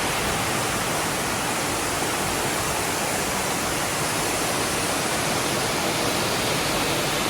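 Gwaneum waterfall in Seoraksan's Gugokdam valley, a steady broadband roar of falling water, dense and unbroken throughout, close and loud with no voices.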